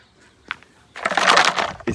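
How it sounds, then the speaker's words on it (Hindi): A homemade plastic bottle rattle noisemaker is shaken on a farm, giving a brief tap and then a loud, rough rattling burst, with faint chick chirps. "असद ने बॉटल का छनकना बना के रखा हुआ था इनके लिए"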